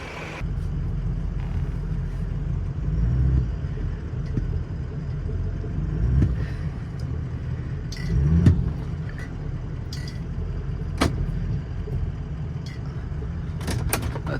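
A truck engine rumbles steadily while the vehicle strains to pull a bumper off, with a few sharp clanks and knocks over the low drone and no talk.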